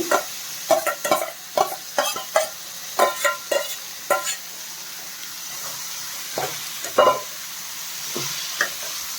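Boiled bitter gourd tipped into a pan of frying tomato, then stirred: repeated scraping and clattering strokes in uneven bursts over a steady sizzle, close and moderately loud, with no voices.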